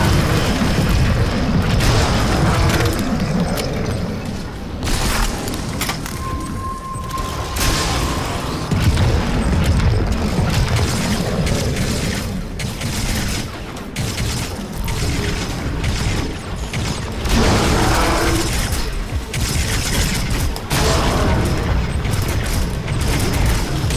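Artillery booms and heavy mechanical clanks in the video game Crysis 3, loud and continuous, with dense crashing impacts layered over a rumbling battle backdrop throughout.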